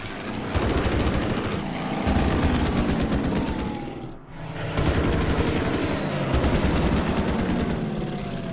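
Gunfire from an attack in the Order of Battle: Panzerkrieg strategy game, with loud, rapid machine-gun bursts over a roaring background. Firing breaks off briefly midway, then resumes.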